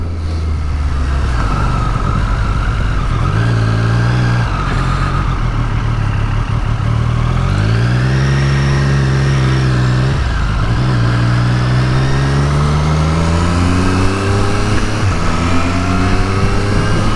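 A 2023 Triumph Street Triple 765 RS motorcycle accelerates through several gears, its engine induction note rising and dropping in repeated sweeps, loud and close over steady wind noise, with no talking.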